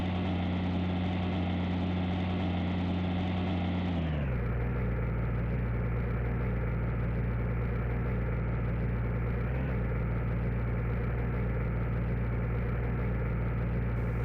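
A Fendt 936 tractor engine in a Farming Simulator video game drones steadily and loudly, shifting to a deeper, smoother running tone partway through, with no voices.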